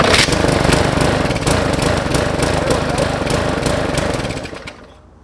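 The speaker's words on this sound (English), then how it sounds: "So I'm going to try to get it running and hold on to it." A Murray 22-inch walk-behind lawn mower that had not been starting runs loudly and steadily nearby, its rough engine drone and clatter holding for several seconds before cutting out and fading away at the end.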